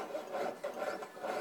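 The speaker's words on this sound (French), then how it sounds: "je sculpte le métal à la scie pour donner cette forme de tressage." A jeweler's piercing saw cuts through metal to sculpt a braided, woven shape, giving a steady rhythm of close, rasping back-and-forth strokes with no talking.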